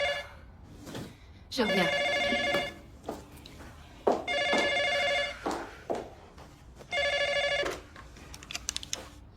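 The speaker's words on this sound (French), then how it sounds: "Le téléphone sonne." An old-style telephone bell rings indoors in repeated bursts of about a second, three long ring cycles separated by pauses, loud and near, with a person speaking briefly between the rings.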